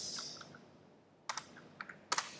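Computer keyboard typing during web coding, a few soft keystrokes early, then sharper clustered clicks and a final quick burst of keys, close and fairly quiet with no talking.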